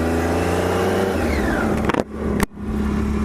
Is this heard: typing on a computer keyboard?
no